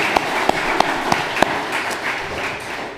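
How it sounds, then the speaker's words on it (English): A small audience at a candidates night in The Colony claps for the candidates, a handful of loud, distinct claps near the start giving way to softer, thinner applause that fades out. "Please give them all a round of applause for their willingness to serve."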